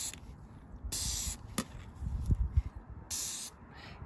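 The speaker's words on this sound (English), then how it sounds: "So I'm going to give it another spray." Oil is sprayed onto a K&N air filter in several short hissing bursts, close and fairly quiet, with faint handling noises between sprays.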